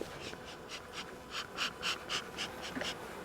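Honey bees buzz around an open hive during a honey harvest check, a steady droning hum with repeated pulsing swells as bees fly close past, fairly quiet overall.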